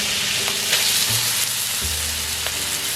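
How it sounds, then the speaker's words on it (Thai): Pieces of pork are stir-fried in a hot pan for a spicy drunken-style stir-fry, producing a loud, dense sizzle with low rumbling and occasional light scrapes of the spatula. "ใส่หมูชิ้นลงไปคั่วอีกรอบหนึ่งนะ"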